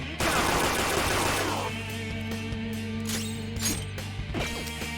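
Gunfire rattles through a battle in the video game Persona 5 Royal, a dense burst of rapid shots up front that gives way to scattered bangs and impacts over game music.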